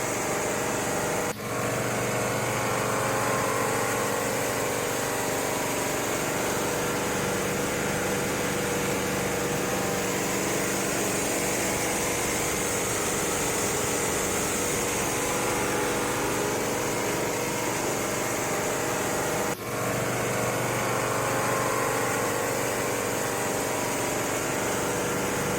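A motor-driven coffee huller runs continuously, a steady loud engine hum with a mechanical whine that holds unbroken, with only a couple of brief dips, and no voices.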